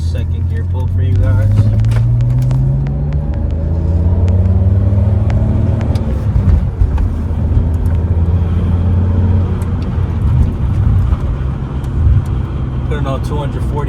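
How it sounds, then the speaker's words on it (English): A high-mileage BMW E46 pulls hard in second gear. The engine note climbs steadily as it accelerates, with a loud cabin drone and rumble and a person talking over it. "I'm gonna do a little second gear pull for you guys."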